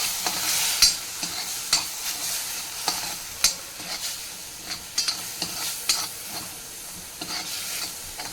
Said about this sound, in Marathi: थोडं किंचित पाणी घालून थोडं त्याला परतवून घेते